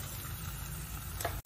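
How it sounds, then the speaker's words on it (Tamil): Finely chopped onions sizzle in hot oil in a pan, a steady close frying hiss with a faint clink near the end and no talking, during Tamil Nadu style lobster cooking. "இப்போ எண்ணெய் நல்லா சூடு ஏறிட்டு அதில் வந்து நம்ம நறுக்கி வச்ச பொடி வெங்காயத்தை போடுவோம்."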